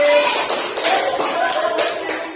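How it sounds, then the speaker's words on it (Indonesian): Children in a school physical education lesson on forward rolls clap their hands in a quick, close patter of taps, lasting a couple of seconds amid room noise. "Tepuk tangan lagi."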